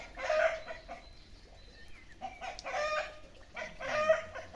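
A village rooster calls repeatedly, in three loud crowing and clucking bursts with brief pauses between, fairly close, over a low background hum.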